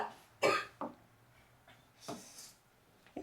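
A man coughs in a few short, harsh bursts, two close together and then another after a pause, near and fairly loud in a quiet room.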